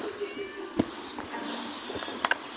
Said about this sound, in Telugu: ఓకే ఒక క్యాట్ అయితే బంధించిందంట.